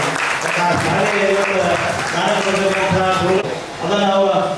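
Loud audience applause at a gathering, a continuous clapping roar that keeps going with a voice talking over it and briefly dips near the end.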